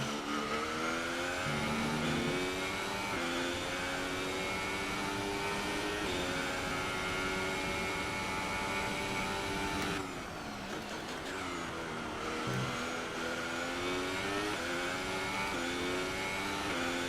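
Formula One race car engine in the video game F1 2018 on a flying lap at Bahrain, a loud high-pitched whine rising and falling through gear changes, with sharp downshifts around braking, continuous and close.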